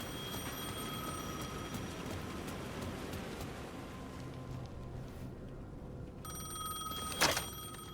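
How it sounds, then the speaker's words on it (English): A telephone rings in a dark psychological horror game, its bell faint and repeating over a low rainy, droning ambience, ending with a short sharp burst. "The phone was ringing again."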